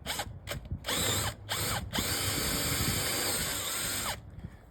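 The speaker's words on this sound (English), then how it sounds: "when I start to drill, the drill wants to jump in" A power drill bores into a storm door during installation, its motor whining loudly in a few short bursts before one long steady run, with no voices.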